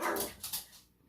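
A dog barking indoors in the background during a marker drawing session, three quick muffled barks of moderate loudness with no talking.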